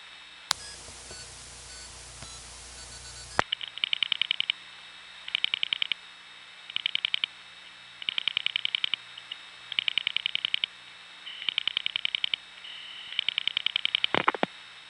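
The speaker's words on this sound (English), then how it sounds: "We haven't heard White Plains 1 dial pulsing yet, so let's give it 7 digits to dial pulse into an independent step tandem." Step-by-step telephone exchange equipment at White Plains 1, recorded in 1975, dial pulses seven digits into an independent step tandem: a hiss gives way to quick bursts of rapid clicking pulses in evenly spaced groups, each with a buzzy tone, ending in a sharp click.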